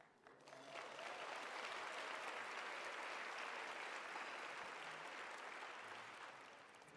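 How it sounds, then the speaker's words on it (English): Steady applause from a luncheon audience at a women's leadership celebration in Chicago, a dense, even wash of clapping that swells quickly and holds for several seconds before tapering slightly. "That deserves applause in front of the mic."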